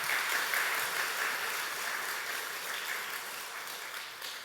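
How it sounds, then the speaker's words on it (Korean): Church congregation applauding during a revival service, a dense, steady wash of clapping that fills the room and slowly fades toward the end. "그러나 박수 한번 하겠습니다."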